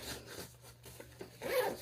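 A zipper on a slim pocket bag being opened or closed, a quiet rasping pull that builds to a louder, brighter stretch near the end, heard up close with no talking.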